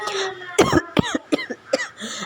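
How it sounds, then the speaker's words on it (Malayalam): Several close, sharp coughs come in quick uneven bursts across a couple of seconds, each short and forceful, from someone preparing a costume for an art festival. "അയ്യോ ചുമ"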